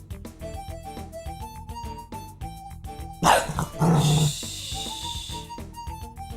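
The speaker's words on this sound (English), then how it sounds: "She doesn't normally go straight for the barks." A dog barks suddenly at night, two loud sharp barks breaking in over soft plucked melodic background music, with a brief rough growl between them.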